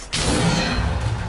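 Depulso spell cast in a Hogwarts wizarding video game, a sudden loud rushing whoosh that starts sharply and sustains as a broad, dense blast for about a second.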